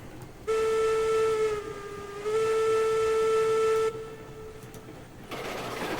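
Two long steady blasts of a steam locomotive whistle in Railroads Online, loud and tonal, the second longer than the first, with engine rumble and hiss between them.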